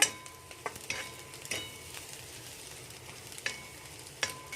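Vegetables stir-frying in a pan over a high gas flame for street-style egg schezwan fried rice: a steady, close sizzle with a few sharp clinks of the spatula against the pan, and no voices.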